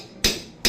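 Two sharp hammer blows land about half a second apart, close and crisp, each with a short ringing tail and near-silence between them.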